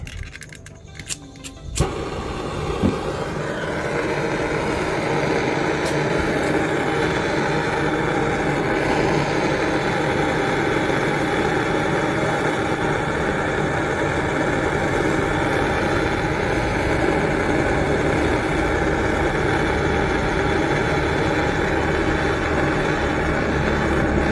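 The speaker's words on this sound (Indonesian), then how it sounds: "saya akan memanaskan dengan menggunakan gas tot seperti ini" A gas torch is used to heat metal for a patch repair. A few clicks and rattles come as it is lit, then a loud, steady roaring hiss holds unbroken to the end.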